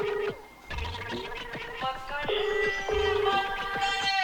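A mobile phone rings with an incoming call, a repeating tuneful ringtone of bright electronic notes in short phrases that plays on steadily with no voices.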